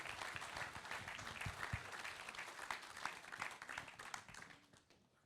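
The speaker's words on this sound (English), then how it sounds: "So can we give these guys a big round of applause?" A church audience claps in a steady, moderately dense round of applause heard at a distance, fading slightly toward the end.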